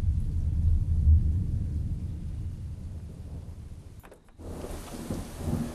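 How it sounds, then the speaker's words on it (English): Thunderstorm in the Oklahoma Panhandle: a deep, rolling rumble of thunder over steady rain, loud and continuous, fading briefly before the rain hiss returns stronger. "This particular thunderstorm occurred in the Oklahoma Panhandle back in the early 2000s"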